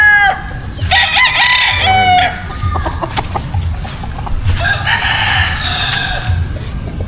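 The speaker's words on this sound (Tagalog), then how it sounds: "yung mga natitira nating mga manok dito sa ating munting manukan" Several chickens and a crowing rooster in a small backyard coop, with repeated loud crows and clucking close by over a steady farmyard background.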